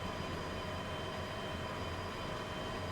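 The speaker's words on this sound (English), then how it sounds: "I have a diesel electric locomotive whirring in my ears" A diesel electric locomotive in the Derail Valley train game hums with a steady, even whir and low rumble, continuous and unchanging throughout.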